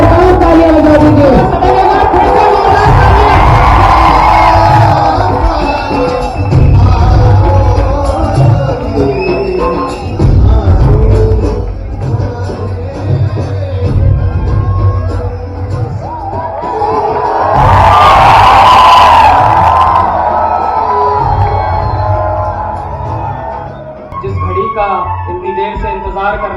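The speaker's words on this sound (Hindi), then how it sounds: "सबसे एक बार शुरुआती जोरदार तालियां बजा दीजिए।" A large university audience at Lovely Professional University roars with cheering, whoops and shouts, loud and close. The crowd noise swells in two big waves, and talk runs beneath it.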